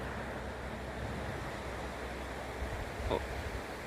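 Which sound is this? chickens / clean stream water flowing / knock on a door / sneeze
clean stream water flowing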